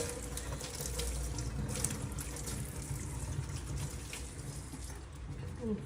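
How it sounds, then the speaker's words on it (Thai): Water runs steadily from a tap into a sink at a face-washing spot, a continuous broadband rush heard alone without talk. "ต้องเปิดน้ำก่อน"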